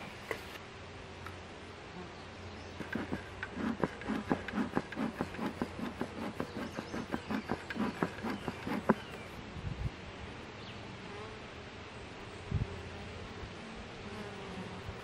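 Honeybees buzzing around an open hive at close range, a continuous hum with quick ticking and clicking in the middle, then a quieter drone with a few knocks.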